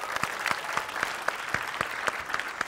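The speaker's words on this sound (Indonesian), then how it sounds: "Tepuk tangan dong buat Davina." A studio audience on a television talk show applauds with steady rhythmic clapping, moderately loud and even.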